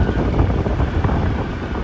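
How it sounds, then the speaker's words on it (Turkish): Strong wind roars steadily across the microphone, a loud, rumbling buffet with no voices. "Çünkü rüzgar bayağı şiddetini arttırdı"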